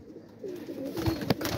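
Pigeons, including golden ones, coo in low, soft, rolling calls close by with no talk, ending with a sharp click near the end.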